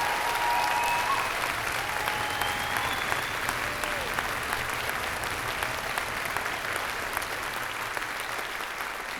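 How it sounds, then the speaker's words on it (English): An evening concert audience applauds the musicians, singers and cadets with sustained, even clapping over nine seconds, and faint whistles rise above it. "take a moment to give another round of applause for these musicians, singers, and these cadets here with us this evening"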